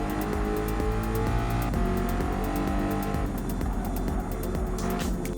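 A GR.4 Ford Mustang race car in Gran Turismo 7 roars steadily at high revs on a time-trial lap around Mount Panorama, with a brief shift and tire noise near the end.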